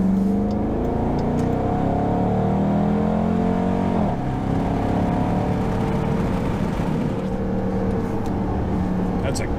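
A 2021 Dodge Durango R/T in sport mode accelerates on backroads, its engine a loud continuous throaty roar rising in pitch, easing briefly around four seconds and then climbing again, heard from the cabin with the window cracked.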